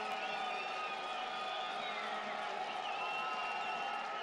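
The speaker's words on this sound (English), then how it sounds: "if you're wondering why the crowd is losing their minds right now" Stadium crowd at a soccer match, a steady broad roar of cheering voices that stays loud and even throughout, with a commentator talking over it.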